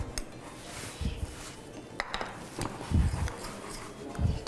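Parsley seasoning mixture being stirred in a bowl, with soft clinks and scrapes of a utensil against the dish in irregular strokes, fairly quiet.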